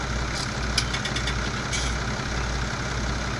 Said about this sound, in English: I forgot to shut the machine off and jumped out of the tractor.